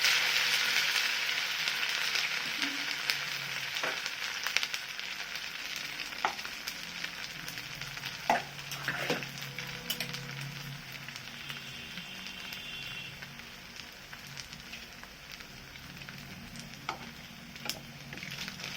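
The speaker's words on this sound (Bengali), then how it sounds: "একটা একটা করে ভেজে নেবো" Semolina and potato snacks fry one at a time in a pan of oil over lowered heat, making a continuous soft, close sizzle and bubbling with a few faint clicks and knocks.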